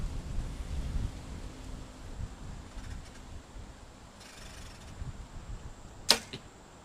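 A single arrow released from a compound bow with a longer draw lands with a sharp thwack late in the clip, preceded by quiet wind rumble outdoors.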